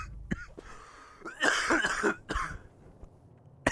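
A man coughs and clears his throat in a short harsh burst, with a couple of rough hacks close to the microphone against a quiet background.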